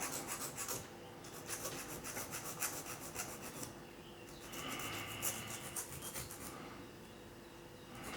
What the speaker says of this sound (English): So I'm now going to go to a finer file, just start making that just a little bit finer.